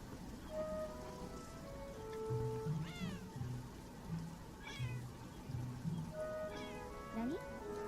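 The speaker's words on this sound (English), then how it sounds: "Kitties!" Cats meowing in the video game Beyond Eyes, several rising and falling meows spread across a steady soft patter of rain, with a voice speaking quietly beneath them.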